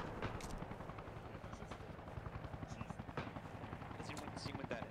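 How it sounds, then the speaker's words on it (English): Helicopter in a military shooter video game, a close, steady rotor chop with rapid rhythmic thumping throughout, fairly quiet, with occasional faint clicks and distant shots. "Has anyone seen what that helicopter is yet?"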